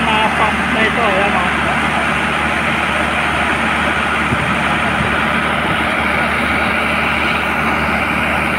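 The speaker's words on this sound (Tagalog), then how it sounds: "So napakalakas ng buga niya. Laki ng pump na ito." A large flood water pump runs loud and steady with a heavy low engine drone, while people talk over it.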